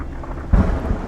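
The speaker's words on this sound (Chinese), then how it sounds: "下雨了" Rain falling steadily with a deep thunder rumble rolling in about halfway through, loud and close, with no voices.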